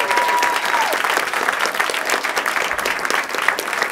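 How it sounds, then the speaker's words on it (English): A crowd applauds the cartoonist Daniel Clowes at the close of a panel, dense sustained clapping filling the room with no one speaking. "a big round of applause for Daniel Clowes"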